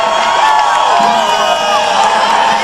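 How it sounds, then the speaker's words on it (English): Pacific Lutheran football fans at the 1993 NAIA national title game against Westminster cheering loudly, a dense stadium roar of voices and whoops that holds steady throughout. "Pacific Lutheran fans cheering their Lutes, who are up 28-7 over Westminster"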